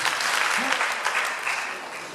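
Church congregation applauding during an evangelization gathering, a dense, steady wash of clapping that fades slightly toward the end, with a voice briefly audible beneath it.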